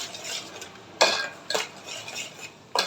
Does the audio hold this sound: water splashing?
no